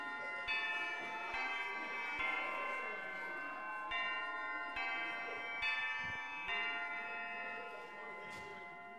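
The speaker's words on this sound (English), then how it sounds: "Oh, that's the lunch bell" A school lunch bell in a video game rings as a series of bright, sustained tonal chimes with regular strikes, steady and fairly loud throughout.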